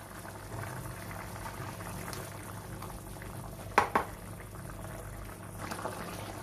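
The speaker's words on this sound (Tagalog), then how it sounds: "Ayan, kumukulo na, pwede na nating haluin at lagyan ng patis." Coconut milk for a turmeric fried tuna dish boils in a pot with a soft, continuous bubbling. A couple of quick metallic utensil clinks sound midway, and no one speaks.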